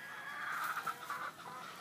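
Hens and pullets clucking nearby in a short, low, murmuring run of soft repeated clucks, fairly quiet and with no one speaking.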